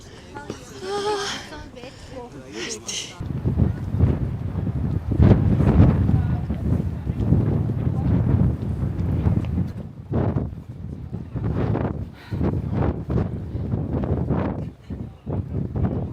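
Gusty wind buffets the microphone outdoors near water in Dublin, Ireland, a loud low rumble rising after the first few seconds and staying strong throughout, with a person talking over it.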